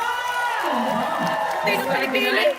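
Crowd at a live show breaking into applause with shouts and whoops, a dense roar of cheering that rises near the end.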